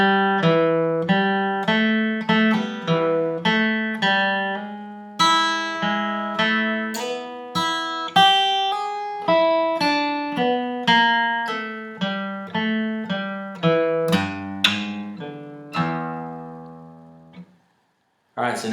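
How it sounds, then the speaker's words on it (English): A country guitar solo riff rings out alone, a quick run of clear plucked notes with bends and fast picking in an intermediate lead style, close and steady for about seventeen seconds before fading to silence. "And riff number 2 one more time"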